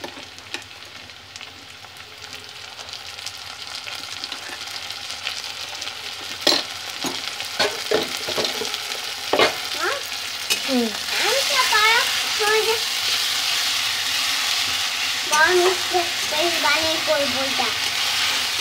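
Ginger, garlic and green chili paste hits hot oil in a pan for a spicy mourola fish curry, a continuous sizzle with clattering stirring strokes, and a voice talking briefly over the frying.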